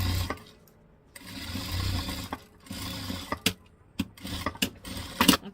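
A sewing machine stitches fabric for a large zippered toiletry bag, running in short bursts of rapid mechanical whirring separated by pauses, with clicks and handling noises in between, close and fairly quiet.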